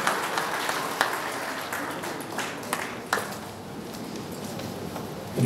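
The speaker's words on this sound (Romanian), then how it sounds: "Haideți să-l aplaudăm." Steady applause from a crowd at a ceremony honouring couples married 50 years in Dărmănești, Romania: a dense wash of clapping with a few sharper claps standing out, continuing throughout at moderate loudness.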